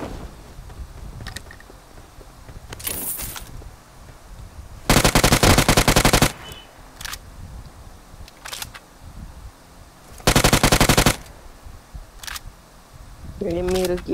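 Gunfire in the mobile battle-royale game PUBG Mobile, two loud sustained bursts of automatic fire plus scattered single shots, with a voice talking throughout.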